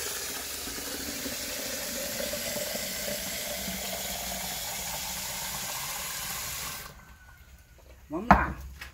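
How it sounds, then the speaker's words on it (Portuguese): Water poured into a pot of frying rice during lunch cooking on a farm: a loud, steady hiss and sizzle for several seconds, then it drops away, followed by a brief clatter near the end. "Agora, pessoal, eu vou pegar água aqui para nós colocar no arroz."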